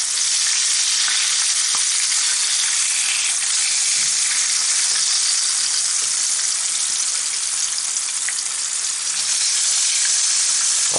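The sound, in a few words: fish frying in a pan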